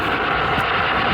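B-17 bombers arriving during a Pearl Harbor re-enactment, a steady, loud drone of aircraft engines that fills the whole short moment without a break.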